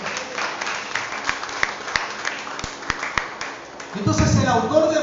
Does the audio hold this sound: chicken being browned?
no